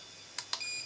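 Two short, sharp electronic chirps from an EONE ET201 handheld oscilloscope-multimeter as its power is switched, followed by a thin high steady tone, close and fairly quiet in a still room.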